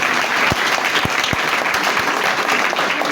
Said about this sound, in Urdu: آئیے خدا باپ اور بیٹے روح القدس کے لیے زوردار تالیاں۔